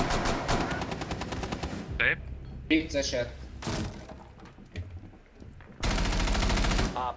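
Rapid automatic gunfire in Rainbow Six Siege, a loud burst of shots followed by sharp single cracks and a breaking thud, then another heavy burst at the end, with players talking between shots.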